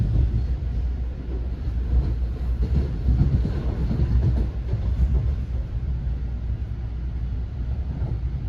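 NJ Transit train rolling through Hudson interlocking on the old CNJ line, heard from inside the car as a steady low rumble with irregular wheel clacks and rattles over the switches, continuous and fairly subdued.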